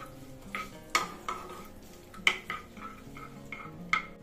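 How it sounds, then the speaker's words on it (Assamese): Spices stirred in a pan with the gas flame off, a spoon scraping and tapping the metal in irregular clinks about every half second over a low background. "দি গোটেইখিনি মছলা ভালদৰে লৰাই দিলো"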